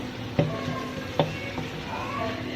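Masala paste frying in oil in a pan for a turai and chana dal sabzi, a low steady sizzle broken by two sharp spoon scrapes and knocks against the pan, close by without speech.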